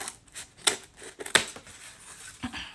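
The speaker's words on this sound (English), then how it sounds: "I don't think this will be too hard to cut out with scissors." Scissors snip through a soft clay slab for a heart-shaped dish, a few sharp, close clicks and cuts spaced irregularly among quiet handling noises.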